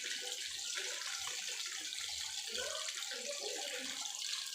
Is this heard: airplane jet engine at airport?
no